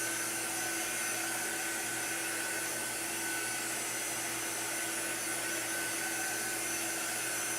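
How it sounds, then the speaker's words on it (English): A handheld craft drying tool blowing cold air over chalk paste and ink gives a constant steady whirring hiss with a fixed motor hum, unbroken for the whole stretch. "it dries the paste really good, and the ink. It's cold. It's not like a hot."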